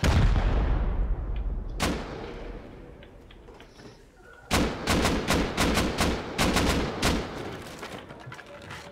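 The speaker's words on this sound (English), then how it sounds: "just use one rocket on that" Rockets and gunfire booming during a raid in a first-person shooter game, one big blast that fades, then a rapid cluster of sharp explosive shots, loud and close.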